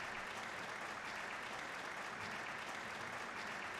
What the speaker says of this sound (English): Is this a clap track?